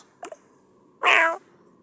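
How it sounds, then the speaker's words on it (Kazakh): A one-eyed cat in a horror video game lets out a single short, fairly loud meow, preceded by a faint brief chirp-like sound over quiet background ambience. "Бір көзді мысық."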